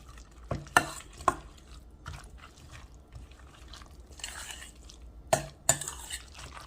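Apple tuna salad being mixed in a bowl, soft wet stirring squelches punctuated by several sharp clinks of a utensil against the bowl, close and quiet.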